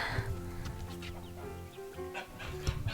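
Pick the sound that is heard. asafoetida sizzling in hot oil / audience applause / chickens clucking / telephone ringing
chickens clucking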